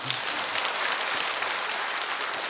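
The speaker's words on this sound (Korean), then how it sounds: "박수 한번 해주세요." Church congregation applauding an elder at a summer retreat service, a steady dense wash of clapping filling the whole moment at moderate level with no voices over it.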